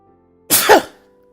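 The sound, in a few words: sneeze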